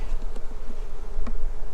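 A dense, steady buzz of many honeybees close by at a hive, a continuous droning hum with a few louder passes.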